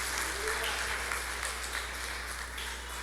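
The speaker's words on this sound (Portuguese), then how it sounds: "Você pode dar uma salva de palmas para Jesus" A church congregation applauds during a service, a steady even wash of clapping that holds for the whole span, with some voices faintly mixed in.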